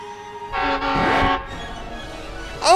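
A train passes in the video game Crossing Souls, with a short burst of loud, horn-like tonal toots rising and bending near the middle, then a fresh tone at the end. No one speaks.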